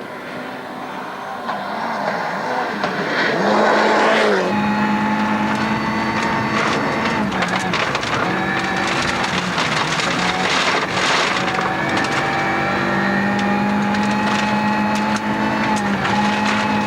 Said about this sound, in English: The accident in 6th gear at well over 100 miles an hour destroyed the car